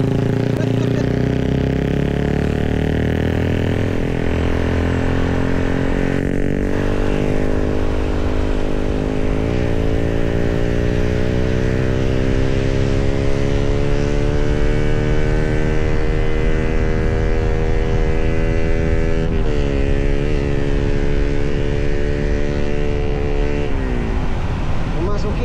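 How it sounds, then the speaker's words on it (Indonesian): A loud motorcycle exhaust drones continuously up close, its pitch rising and falling as the engine revs, filling the whole stretch without pause. "itu knalpot suaranya kencang sekali tuh depan"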